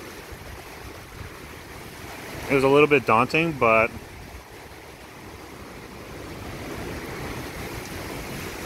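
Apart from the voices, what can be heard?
enormous ocean waves at Richardson Beach at night, Hilo, Hawaii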